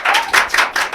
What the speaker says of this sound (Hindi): जोरदार ताली हो जाए बबली के लिए भाई साहब